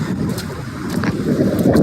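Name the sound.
wind on a mountain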